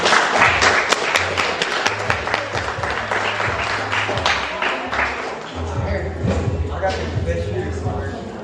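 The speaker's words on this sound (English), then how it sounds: "so let's go ahead and clap him up for me, please." A crowd at a youth AAU basketball awards banquet claps continuously and fairly loudly for a player receiving an award, with a voice speaking through the applause.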